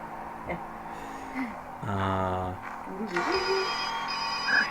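Cell phone ringing in the video game The Witness: a loud, buzzy electronic ringtone with repeated pulsing tones sounds up close, mixed with other warbling tones and bird-like chirps.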